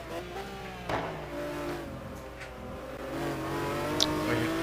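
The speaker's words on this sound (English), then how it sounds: "And he is got that car motoring." A McLaren F1 race car in a racing video game at Road America, its engine revving and climbing steadily through the gears, a continuous close whining drone with a brief squeal near the end.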